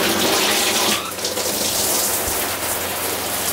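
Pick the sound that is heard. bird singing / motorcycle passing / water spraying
water spraying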